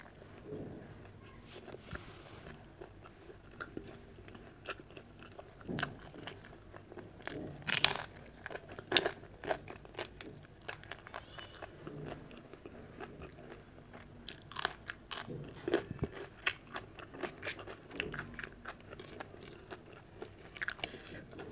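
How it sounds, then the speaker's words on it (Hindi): Close, crunchy bites and wet chewing of spicy okra sabji eaten with roti go on in irregular bursts, while a pigeon coos softly in the background. "ले लो गाइस एक बाइट।"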